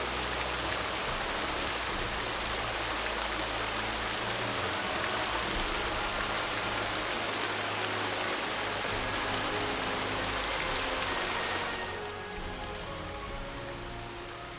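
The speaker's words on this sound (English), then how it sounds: "What a beautiful waterfall." Waterfall near Neuschwanstein castle in the Bavarian Alps, a steady broadband rush of falling water that fills the whole clip, loud and continuous, easing slightly near the end with no talk over it.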